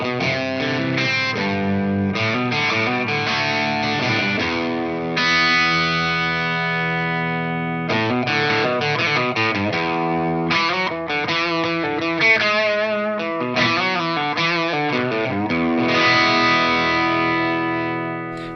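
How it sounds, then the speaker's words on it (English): Overdriven electric guitar through a Drybell The Engine overdrive pedal plays a chord riff with a warm, crunchy 1960s non-master-volume amp-style tone, strummed steadily throughout with no talking. "a 60s non-master volume style amp tone"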